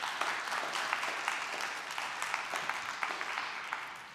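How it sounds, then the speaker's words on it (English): Audience applause for Kelly, a member of the team behind the 2021 JET fusion energy record, at a fusion conference: steady, dense clapping from a crowd sustained throughout. "So a round of applause for Kelly."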